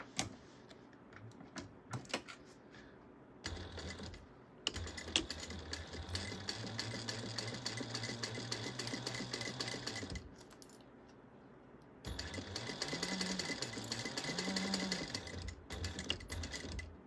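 A sewing machine basting straps onto a fabric bag, with quiet clicks and handling at first, then long bursts of rapid mechanical stitching that stop and restart, fairly faint.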